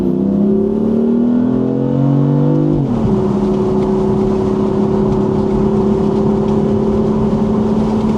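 A 2018 BMW M4 engine drones steadily, then blips sharply on a downshift into first at about 5 mph and settles to a lower, even hum, heard loud and close from inside the car.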